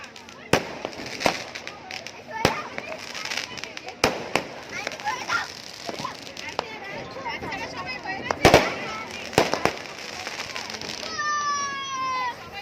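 New Year's Eve fireworks pop and crack in scattered sharp bangs, some near and loud, others distant, over a busy background of voices and crowd noise, with a rising whistle near the end.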